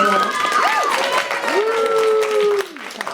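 An audience at a college poetry slam claps and cheers, with loud whoops and calls riding over a steady bed of applause before it drops off near the end.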